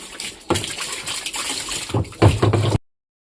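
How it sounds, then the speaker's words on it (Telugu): Waste water rushes and gushes out of a semi-automatic washing machine, draining in a steady, splashy flow that swells and then stops abruptly. "వాటర్ అంతా వేస్ట్ వాటర్ అంతా వెళ్ళిపోతుంది,"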